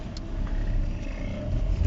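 Cars move through a crowded Lidl supermarket parking lot in France, a steady close engine hum and road rumble with no talk over it.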